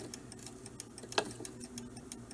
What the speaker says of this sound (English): You actually might be able to hear it tick now that the percolator has quieted down